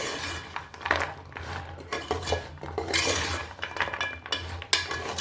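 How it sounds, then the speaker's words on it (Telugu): A spoon scrapes and clinks against a pan while fried gavvalu are tossed through sticky jaggery syrup, irregular metallic knocks and scraping strokes close up with a low background hum. "ఇప్పుడు ఇవన్నీ పాకానికి కొంచెం పట్టేలాగా ఇలా కలుపుకోవాలి."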